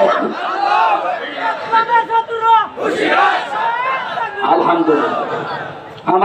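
A crowd at an Islamic sermon gathering shouts back together in response to a takbir call, a loud massed roar of many voices with overlapping chatter, rising and falling several times with a second surge near the end.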